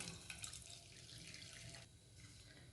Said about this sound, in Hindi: और अब इसमें हम डालेंगे पानी।